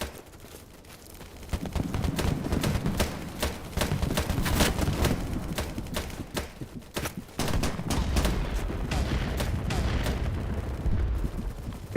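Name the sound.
sniper gunfire in a Fallout video game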